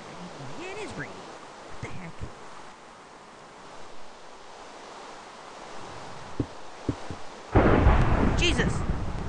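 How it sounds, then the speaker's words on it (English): Thunder in the Minecraft video game during a rainstorm, with faint rumbles and soft rain hiss building to a loud, sudden crack near the end. "It's thundering."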